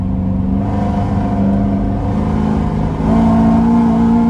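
A supercharged 850 hp C7 Corvette Z51 engine drones loudly at close range in fifth gear, its pitch climbing gradually as it pulls harder, with no voices over it.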